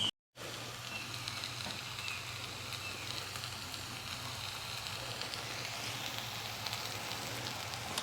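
Food sizzling steadily in a pan on an outdoor cooking setup, a constant close crackling hiss with low hum beneath, running without pause after a brief silent start.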